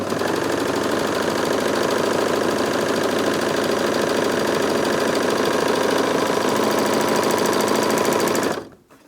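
Bernette b64 Airlock overlocker running at top speed, a loud, fast, continuous mechanical whir of rapid stitching that cuts off abruptly near the end.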